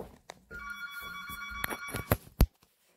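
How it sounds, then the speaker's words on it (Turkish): A mobile phone ringtone plays a bright electronic tune of 90s music for just over a second. Sharp clicks and thumps of nearby handling break in around and after it. "Sami'nin telefonu duyuyor musunuz? 90'lar müziği."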